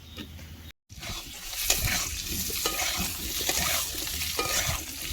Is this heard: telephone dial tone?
no